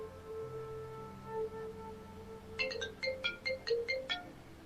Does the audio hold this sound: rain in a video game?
no